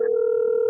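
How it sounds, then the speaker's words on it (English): A special Hot Wheels toy phone gives off a short steady electronic tone, a bright sustained beep-like note held for under a second, clear and close. "Conky pulls out a special Hot Wheel phone."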